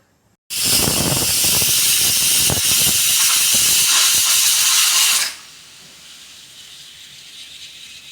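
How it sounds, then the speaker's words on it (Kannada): A pressure cooker boiling gram on the stove lets out a loud, continuous steam hiss and whistle that lasts about five seconds, then drops sharply to a faint background hiss. "ಇಲ್ಲಿ ನೋಡಿ ಕುಕ್ಕರ್ನ ಇಟ್ಕೊಂಡಿದ್ದೀನಿ ನಾಲ್ಕು ಸೀಟಿ ಕೂಗಿಸ್ಕೊತೀನಿ"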